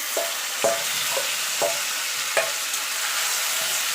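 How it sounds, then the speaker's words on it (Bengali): Spiced marinated chicken stirred into fried onions in a pan, a steady sizzle under a handful of sharp scraping stirs spaced about half a second apart, close by. "এবার দিয়ে দেবো যে মাংসটা মেখে রেখেছিলাম মশলা দিয়ে সেইটা"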